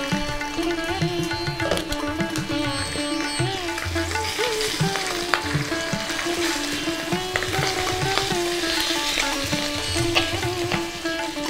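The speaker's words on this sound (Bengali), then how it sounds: "মাছের মাথাটা কড়া করে ভেজে নিতে হবে।" A fish head fries crisp in oil under a lid, a steady moderate sizzle with scattered utensil clinks and light scraping.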